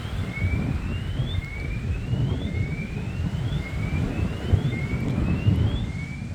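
Steady strong wind rushing and buffeting the microphone, with low rumbling gusts throughout and faint repeated rising chirps, likely birds, in the background.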